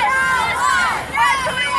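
A large, dense crowd at a street protest by Police and Protesters in Houston, Texas, murmuring and chattering continuously as a loud, close babble of many overlapping voices with no single speaker standing out.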